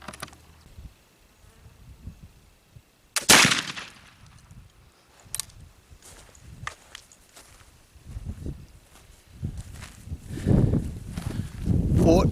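A single sharp, loud gunshot from a firearm loaded with homemade DIY black powder, fired through a chronograph, cracks out once early and alone, followed by quieter shuffling, handling noise and a voice.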